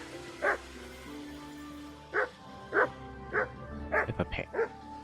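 A dog barks in the medieval game Kingdom Come: Deliverance with a string of separate woofs, then a quick cluster of yips near the end, all fairly close and clear.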